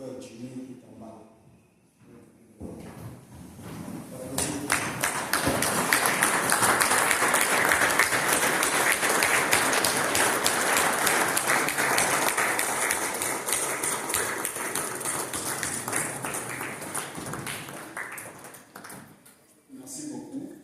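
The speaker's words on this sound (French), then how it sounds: "applaudir pour la vie de cet homme, pour la vie de mon frère Jimmy qui est en bas" A congregation rises into sustained standing applause honoring a man's life, building from scattered claps into a full, rolling ovation that swells in the middle and fades toward the end, with a voice speaking briefly at the start.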